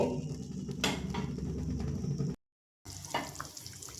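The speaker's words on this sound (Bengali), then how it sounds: "এবার আমি দু থেকে তিন মিনিট ঝোলটা একটু ফুটিয়ে নেব" A pot of rohu fish and pointed gourd curry with potatoes simmering in a light-spiced gravy, a close, soft bubbling and sizzling hiss, briefly cut to silence midway before resuming, with no voices.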